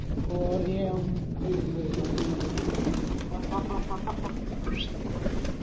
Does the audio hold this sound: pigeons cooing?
yes